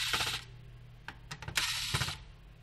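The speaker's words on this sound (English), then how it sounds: "you can go ahead and remove these two screws to clean up the fan even better" Small screws being removed from the cooling fan of a PS3 Slim console, close-up faint metallic clicks and brief scraping taps from a screwdriver, with short bursts of handling noise.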